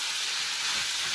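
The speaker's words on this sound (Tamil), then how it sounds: "நல்லா வதக்கிக்கோங்க" Prawns sauté in a pan for a prawn fry, giving a steady, even sizzling hiss that continues throughout without any talk.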